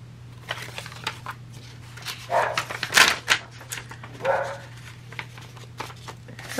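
A dog barks a few times at moderate distance indoors, short muffled yelps scattered among rustling paper and tapping from nearby craft work.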